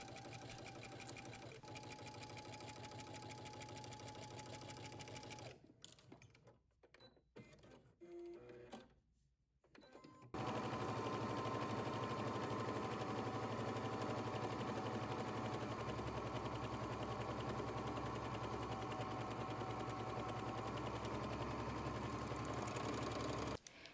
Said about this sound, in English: we're going to go to the sewing machine and we're going to start at the bottom of the skirt and we're going to sew a seam